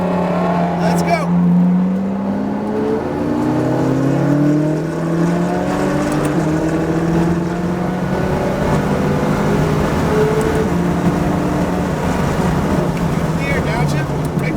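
McLaren 570 GT4 race car engine on a cone-marked driving course, droning and rising and falling in pitch through upshifts and downshifts, loud and close, with voices talking over it.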